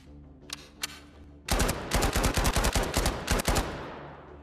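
WW2 weapons fire in the VR game Zero Caliber: two sharp isolated shots, then a fast, loud burst of close automatic gunfire with a few brief gaps before it fades.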